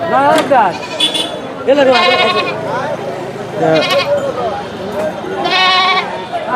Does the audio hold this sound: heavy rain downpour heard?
no